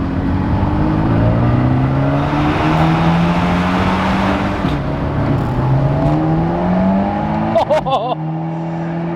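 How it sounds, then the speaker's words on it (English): Modified turbocharged Fiat Abarth 124 Spider driving past with rising and falling engine revs through gear changes, then a burst of sharp exhaust pops near the end, with faint talk underneath. "the pops and the crackles that you get on downshift and upshift, it just sounds so good"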